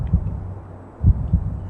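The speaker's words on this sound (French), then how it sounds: "Ce battement de cœur nous a surpris, tous les 3." A heavy, muffled heartbeat thuds through a phone line during a paranormal experiment, double beats in a slow, steady rhythm over constant low background noise.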